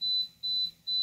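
Three evenly spaced high-pitched electronic beeps from a waffle maker signalling it is done, clear and close with no talking.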